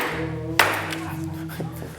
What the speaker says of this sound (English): take that hammer, and I want you to smash the bottle